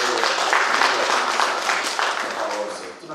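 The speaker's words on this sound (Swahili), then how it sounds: "Na wewe jipigie makofi" Congregation applauding at a Sunday church service, a dense sustained patter of many hands filling the room at steady loudness for a few seconds.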